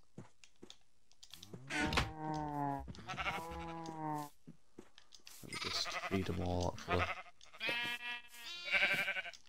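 Sheep in the Minecraft video game bleating several times in wavering, nasal calls, some overlapping, while a person talks over them and keyboard typing clicks faintly.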